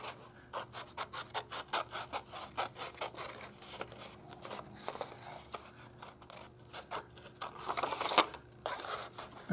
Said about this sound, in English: So just do your best to cut it out along that edge.